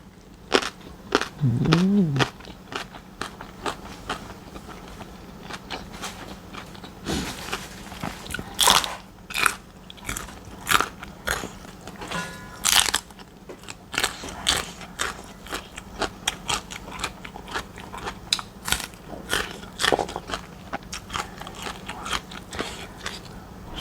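Crisp fresh raw vegetables being bitten and chewed with roasted shrimp paste, loud close crunches repeating irregularly through the stretch, with wet chewing between bites and no talking.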